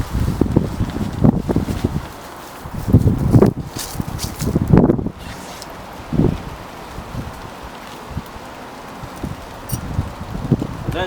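Wind blows across an open fishing venue, giving a constant rushing hiss. Several heavier gusts buffet the microphone and cause low rumbling thumps, and faint rustling sits underneath.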